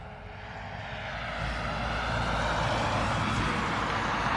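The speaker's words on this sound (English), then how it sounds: "So Ryanair's off to Berlin." A Ryanair airliner departing Dublin for Berlin gives a broad jet-engine roar that swells steadily louder over a few seconds, with heavy low rumble and no voices.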